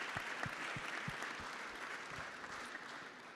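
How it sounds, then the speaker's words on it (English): At a tech-industry panel discussion, an audience gives the panelists faint, distant-sounding applause, with a few sharper claps standing out over a soft, steady patter. "can I please have a round of applause for my incredible panel?"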